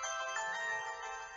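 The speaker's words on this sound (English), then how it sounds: "Oh, sorry, my phone's ringing." A mobile phone ringtone plays alone as a steady, bright electronic melody of sustained tones, moderately loud and continuous for its whole length.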